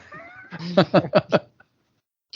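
A voice imitates a cat's meow, a quick series of four or five rising meows in a row, close and clear.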